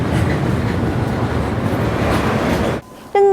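A freight train rolls through the Manzhouli border crossing between China and Russia, a loud, close, continuous rumble with wheel clatter, cutting off abruptly into a brief electronic beep at the end.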